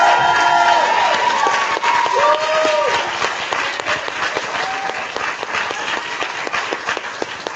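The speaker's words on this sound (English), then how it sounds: "please stand up as loud as you can and cheer this young woman on" An audience at an empowerment event stands and gives a young woman loud, sustained applause with cheering and whoops, a dense wall of clapping from a large crowd.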